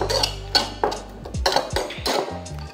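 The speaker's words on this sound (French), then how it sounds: "Je vais mélanger le tout." A utensil stirs a lemon juice mixture in a bowl for naan and kefta, clinking close against the sides in quick metallic knocks with a scraping swirl between them.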